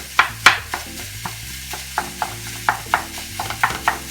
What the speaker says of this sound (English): you've got to have the heat high, and you need to keep excuse me, you need to keep prodding the mince